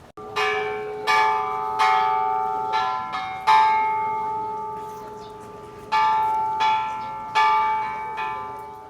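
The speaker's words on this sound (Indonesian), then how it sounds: "Banyak orang yang datang ke sini untuk membunyikan lonceng tersebut." A large peace bell in Hiroshima, Japan is struck several times at an unhurried pace, each clang ringing out and decaying slowly, loud and resonant with no talking.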